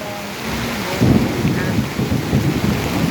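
Steady rain with low, rolling rumbles of thunder swelling in and out, a continuous stormy wash without any voices.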